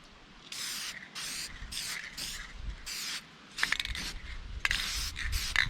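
Clear lacquer sprayed onto a smallmouth bass replica in repeated short hissing bursts, each a second or less with brief gaps between, fairly faint and close, ending in quicker, sharper spurts.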